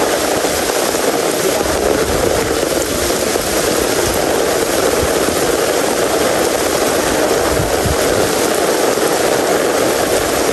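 Heavy rain pours down in a steady, dense roar that stays loud and unbroken from start to finish, with no voices rising above it.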